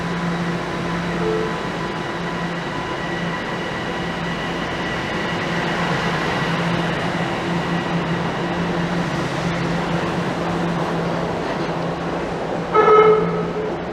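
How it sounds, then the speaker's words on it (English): A loud subway train at a station on Yonge Street in North York, Toronto, a steady rumble and rolling roar that lasts throughout, with a brief sharp horn or squeal near the end. "I just came over to this side as the train was rather noisy"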